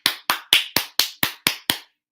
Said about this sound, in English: can we just give a clap to Kendra?